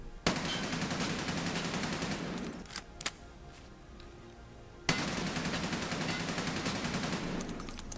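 Automatic rifle fire in Escape from Tarkov during a recoil test, with two long, loud sustained bursts of rapid shots separated by a short pause with a few stray clicks.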